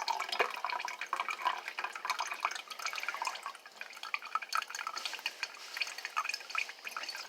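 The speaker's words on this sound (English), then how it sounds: "We want to drain all the grease that we can." Grease drains off cooked chili meat with a soft, continuous trickle and scattered drips and clinks, faint and close, with no talking.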